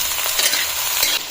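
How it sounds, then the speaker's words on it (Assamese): Onions sizzle in a pan of hot oil with panch phoron for a pork and mustard leaves curry, a close, even frying hiss broken by a few scraping stirs. "পিঁয়াজখিনি এটা অলপ সময় ভাজি ল'ম"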